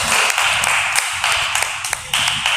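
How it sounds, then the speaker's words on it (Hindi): Audience applause at a poetry gathering held in a Jain temple in Greater Noida, heard as bursts of close, crisp clapping that swell and fade in several waves, with no talking over it. "एक बार जोरदार तालियां"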